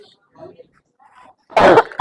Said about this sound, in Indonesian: Aduh, mohon maaf ya, saya sedang batuk.